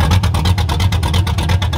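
A truck engine fitted with a cam and open headers revs hard and very loud, a pulsing, choppy roar with rapid rhythmic beats throughout.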